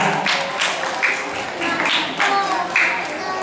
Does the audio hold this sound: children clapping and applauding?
yes